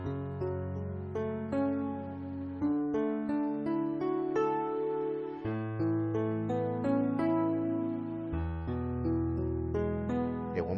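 Gospel piano chords climbing step by step, each voicing with an added second tone, played slowly and alone in a steady sequence of sustained chords.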